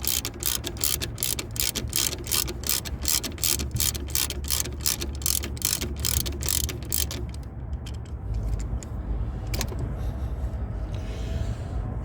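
A ratchet wrench turns the belt tensioner on a Subaru Legacy engine, clicking in a fast, steady series for about seven seconds before stopping, close and mechanical, with a few faint knocks afterward.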